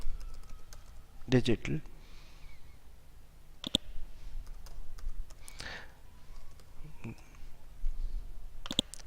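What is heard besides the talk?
typing on a computer keyboard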